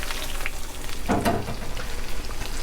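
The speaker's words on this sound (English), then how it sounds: "put it in the fryer" Eggplant slices coated in Parmesan breadcrumbs sizzle in a fryer, a steady close hiss of bubbling oil with a louder crackling surge as a piece drops in, continuing without any voices.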